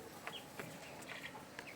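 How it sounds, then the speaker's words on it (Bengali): Chickens feed together on a low-cost poultry farm, giving soft, scattered clucks and short pecking calls at a distance, faint over a hissy background. "ওই তো ওখানে কিছু মুরগি খাচ্ছে"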